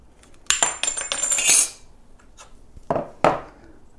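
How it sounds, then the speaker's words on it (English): Tin snips cutting a piece of sheet material to width, a close run of sharp clicks and crunchy snips in quick bursts, then a pause and two more snips. "And I'm going to use tin snips"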